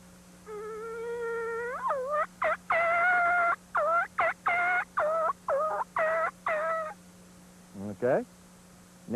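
A hand-operated turkey call mimics a wild turkey, giving a string of sharp, rising yelps and clucks in quick bursts, loud and close, with a brief raspy flourish near the end.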